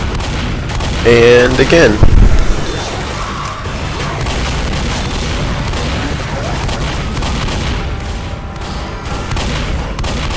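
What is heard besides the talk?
repeatedly firing a shotgun in video game Left 4 Dead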